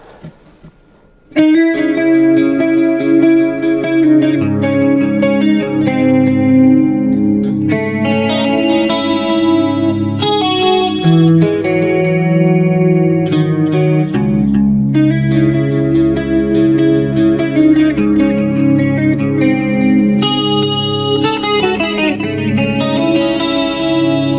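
Clean electric guitar through a BOSS eBand JS-10 with a shimmering 80s-style chorus effect plays chords and melodic lines, wide and reverberant, continuous and fairly loud throughout.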